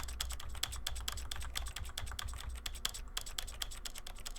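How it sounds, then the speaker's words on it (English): Rapid, continuous clicking of keys on a computer keyboard, close and quiet, with an even typing rhythm and no talking. "You can probably hear every time I'm hitting my keyboard."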